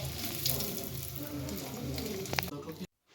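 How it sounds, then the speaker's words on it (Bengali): Capsicum chops and lote fish chops sizzle as they fry in hot oil. The crackling is steady and close for about three seconds, then stops abruptly. "এই দেখো সব চপ ভাজা হয়ে গেছে"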